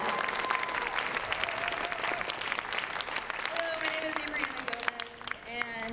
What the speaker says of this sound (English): Let's give Miss Abrianna a round of applause.